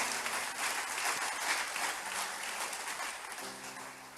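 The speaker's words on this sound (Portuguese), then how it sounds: "a salva de palmas para o Senhor" Church congregation breaks into sustained applause at a worship service, a dense, steady wash of many hands clapping that carries through the whole moment with no speech over it.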